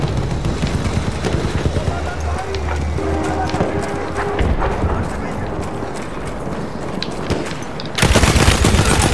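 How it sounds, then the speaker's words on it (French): Heavy weapon gunfire from a Battlefield 1 match, dense rattling bursts over constant battlefield noise with voices mixed in, swelling into a louder burst near the end. "Et voilà, le kill, enfin à l'arme lourde."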